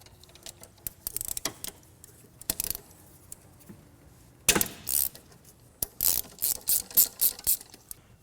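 A ratchet spanner undoes 8mm screws on a Land Rover Discovery engine during an EGR valve replacement, giving close, crisp bursts of rapid clicking, a few sparse turns at first and then quicker, louder runs of ratcheting.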